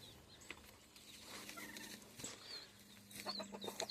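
Roosters clucking and calling outdoors at moderate distance, with scattered short bird calls over steady background noise and no talk.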